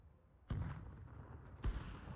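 Grenade blasts in Counter-Strike 2, two booming explosions about a second apart, each a sudden heavy low thump trailing into a rumbling decay.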